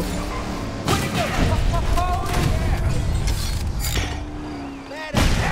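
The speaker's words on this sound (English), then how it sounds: "Tracking rocket has been fired." A tracking rocket fired and exploding in the Cars 3 racing video game: loud, dense blasts and crashing bursts over continuous engine roar, with a commentator talking over the action.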